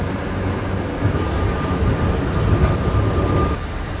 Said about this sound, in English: We've just seen the tram coming up from Port de Sóller coming in.